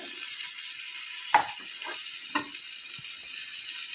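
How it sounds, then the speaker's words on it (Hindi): Butter melting in a pressure cooker makes a steady, soft sizzle and frying hiss, broken by a few brief clinks and scrapes of utensils against the pot. "मक्खन मेल्ट हो रहा है।"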